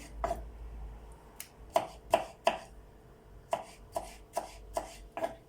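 Knife chopping tomatoes on a board in a home kitchen while cooking a potato bake with béchamel and kaşar cheese; a dozen crisp, close chops come in uneven bursts with short pauses, no talking.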